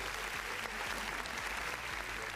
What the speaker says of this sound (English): Let us give some reactions and applause to the video